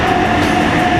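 A train rolls along at speed, heard from on board as a loud, steady rumble and rattle with a faint tonal whine, continuous throughout and with no talking.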